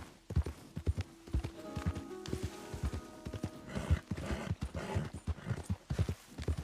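A horse in the Red Dead Redemption 2 video game: steady clip-clop hoofbeats moving at a walk, with a whinny and snorting breaths, fairly close and clear.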